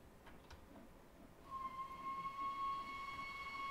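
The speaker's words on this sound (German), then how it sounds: "Und hier dabei zugucken, wie unser Zug hier vorbeidampft." A BR 01 steam locomotive passes in Train Sim World 4. Quiet ambience gives way to a rising rail rumble, with a sustained high tone that runs through the second half.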